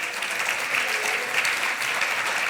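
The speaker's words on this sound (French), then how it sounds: "bien sûr sous vos applaudissements" Audience applause at a French outdoor industry forum, a dense, steady wash of many hands clapping at even volume throughout, with no voices standing out.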